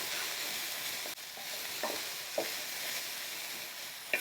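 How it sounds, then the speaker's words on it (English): Chopped onions frying in a pan, a soft continuous sizzle with a few faint stirring scrapes and taps, fairly quiet and heard alone. "about quarter cup of chopped onions. Just going to let that cook through slightly."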